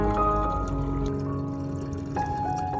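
Onion skin and turmeric liquid being strained, a faint steady pour and trickle that shifts in pitch partway through.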